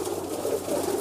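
Pigeons cooing in a loft in Ras Al Khaimah, UAE, soft low throaty coos overlapping in a short steady murmur, close and moderately loud.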